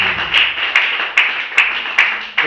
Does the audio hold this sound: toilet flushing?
no